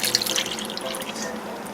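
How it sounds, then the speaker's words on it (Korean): Thick glutinous rice paste poured into kimchi seasoning in a kitchen, a brief close liquid splash and drip followed by a soft steady trickle with no talking. "찹쌀풀 500ml 부어줍니다."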